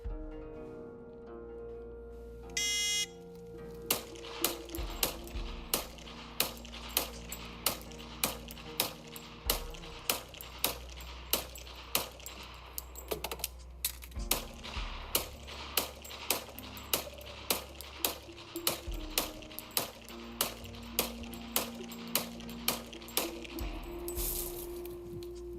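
A rifle fires rapid, evenly spaced shots from two 15-round magazines at three targets, about twenty sharp cracks at a steady rhythm with ringing tails, the fire briefly pausing for a magazine change.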